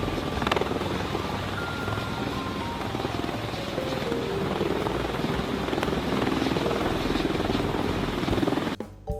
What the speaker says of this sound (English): A helicopter is a type of rotorcraft in which lift and thrust are supplied by horizontally spinning the blades.